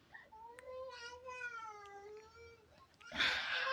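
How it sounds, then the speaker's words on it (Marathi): A house cat gives one long, drawn-out meow close by, rising and falling in pitch, followed by a burst of loud rustling noise. "ही बघा, ही आमची मांजर आहे."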